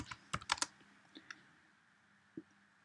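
Quiet, close keystrokes on a computer keyboard as a command is typed on a Raspberry Pi, a quick cluster of clicks followed by a few sparse taps.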